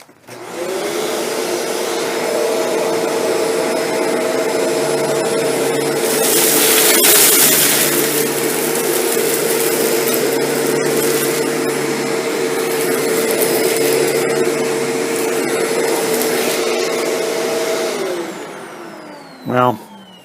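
A Shark Apex vacuum cleaner running on low pile carpet with its brush rolls at medium speed, a loud, steady, close motor whine for about eighteen seconds that swells slightly midway and then cuts off, with faint voice underneath.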